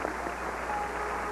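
A studio audience applauds steadily at a TV show taping, a dense, even wash of clapping with no voices over it.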